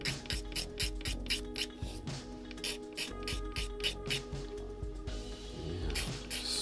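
Old brown linen wrap being scraped off the handle of a pool cue: rapid, close, rhythmic scratchy strokes in quick bursts, like repeated ratcheting rasps, steady throughout with a short pause near the end.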